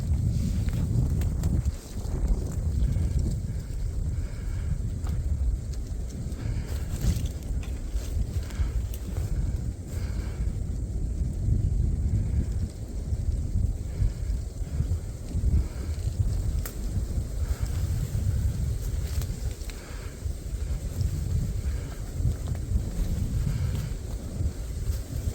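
Continuous gusting wind buffets a microphone outdoors along a wooded deer trail, a heavy low rumble that swells and fades throughout, with faint rustling and scuffing mixed in.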